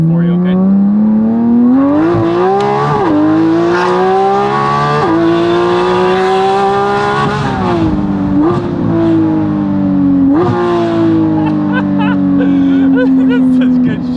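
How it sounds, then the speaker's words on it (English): A Porsche Cayman GT4 RS engine wails loudly from on board during a hard run, its pitch climbing repeatedly and dropping sharply at each of several quick gear shifts. "First ride in the GT4 RS. We're gonna do a little run here for you, okay?"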